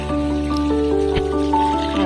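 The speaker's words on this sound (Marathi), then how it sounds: "मस्त क्लीन पाण्याने स्वच्छ करून घेत आहोत" Fresh spinach leaves are washed by hand in clean water, with drips, splashes and wet squishing over a steady background hum, close and fairly loud, without speech.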